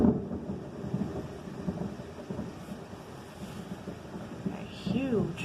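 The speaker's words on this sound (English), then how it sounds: "A huge lightning bolt, man." Heavy rain pours steadily while deep thunder from a nearby lightning strike rumbles and rolls, swelling again toward the end, with a voice faintly exclaiming over it.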